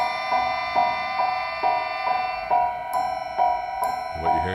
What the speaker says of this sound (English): So what you're hearing right now is Wait Until Dark.